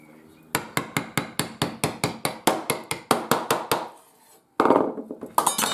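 Knife chopping through a whole fish for frying, a rapid run of sharp, evenly spaced thuds on a board, about twenty hits, close and loud, then a brief pause and a few more chops.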